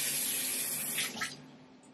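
Running tap water rinses a fresh catfish in a sink, a close, loud, steady stream that splashes and then eases off near the end, with no talking.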